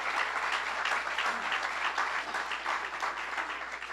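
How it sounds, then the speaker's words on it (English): Steady applause from an audience at a public event in the Bronx, a dense, even wash of many hands clapping that holds for several seconds without a break. "Let's give them a strong round of applause."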